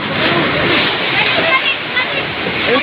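Very strong whirlwind wind roaring and buffeting hard against the microphone, a loud, dense, continuous rush with gusty surges throughout.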